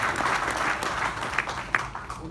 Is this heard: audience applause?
yes